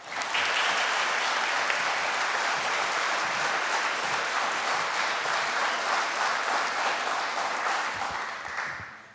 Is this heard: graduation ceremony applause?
yes